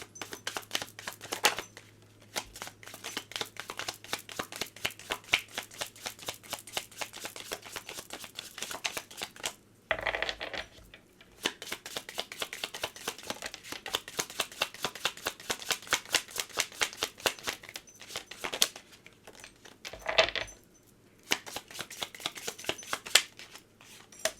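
Message cards for a pick-a-card love reading are shuffled close up in long runs of quick riffling flutter, broken by a few brief pauses, with no voices.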